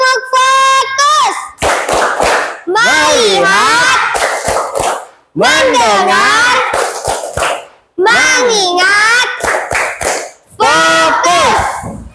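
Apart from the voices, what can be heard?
group rhythmic clapping in a 'tepuk fokus' clapping game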